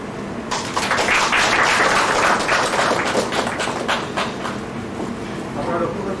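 Warm audience applause at a KMDA felicitation ceremony in Bengal, a dense continuous wash of many hands clapping throughout, fairly loud and steady.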